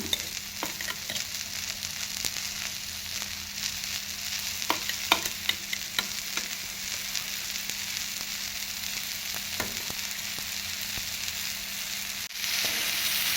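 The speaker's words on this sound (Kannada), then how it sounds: "ಸೊ ಇವಾಗ ಇದೇನು ರುಬ್ಬಿಟ್ಟಿದ್ವಲ್ವಾ ಸೊ ಇದನ್ನು ಇದಕ್ಕೆ ಹಾಕ್ಕೊಳ್ಳೋಣ" Ground chutney paste fries in hot oil in a pan, giving a dense, steady sizzle with scattered sharp pops and occasional clinks of a spoon, close and continuous with no talking.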